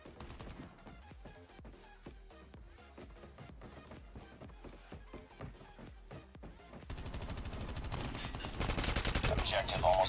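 Rapid automatic gunfire from the mobile shooter Call of Duty Mobile rattles in dense, loud bursts, followed by a rising wash of explosion-like noise toward the end.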